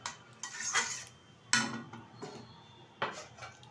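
A metal lid clanks onto a cooking pot of rohu fish curry with potato and eggplant, three sharp metallic knocks and rattles spaced about a second and a half apart, close by with no talk.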